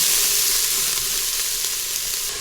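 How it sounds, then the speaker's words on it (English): Shallots sizzle steadily in a pot of hot vegetable oil, a close, even frying hiss that holds for a couple of seconds without any talking. "we're gonna add tablespoon of vegetable oil. Just making sure that the bottom of the pot is covered. And we're going to add the shallots."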